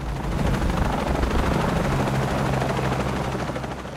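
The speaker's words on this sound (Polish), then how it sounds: "Znowu śmigłowiec, kurczę." A helicopter's rotor in the video game Shadow of the Tomb Raider thumps and whirs loudly and continuously, a dense rumbling roar that stays close throughout with no talking.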